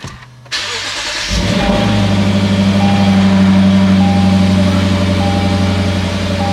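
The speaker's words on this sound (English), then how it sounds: "So in order to do that, you have to start the car." Lexus GS F V8 engine cranking and catching after a brief silence, then settling into a loud, steady close idle with a strong low hum.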